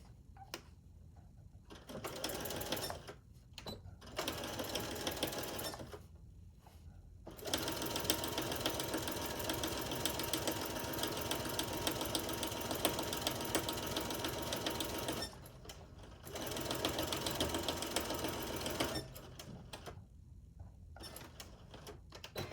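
A sewing machine stitches quilt half-square triangles in several runs of rapid, steady mechanical chatter, the longest lasting about eight seconds, separated by short quiet pauses.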